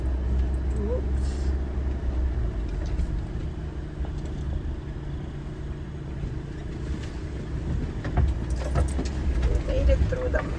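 A car driving along a muddy dirt road through forest crown land, with a steady low engine rumble and rattling from the vehicle throughout, while people talk inside.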